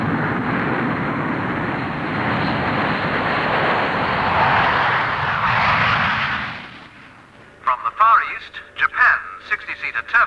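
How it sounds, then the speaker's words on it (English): A Japanese YS-11A 60-seat turboprop airliner flies past at the Farnborough airshow, its loud broadband engine roar swelling and then fading away, followed by someone talking over quieter background. "Japan's 60-seater turboprop YS-11A."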